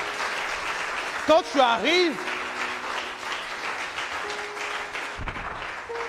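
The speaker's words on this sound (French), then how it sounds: "Est-ce qu'on peut acclamer?" Congregation applauding during a French-language church service, a steady broadband patter running through the whole stretch while a voice speaks over it.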